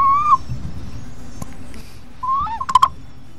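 A zoomorphic bird-shaped water whistle imitates a quetzal call, giving two near, clear warbling tones: a rising note, then a brief pause and a trill of quick, bright chirps ending the sequence.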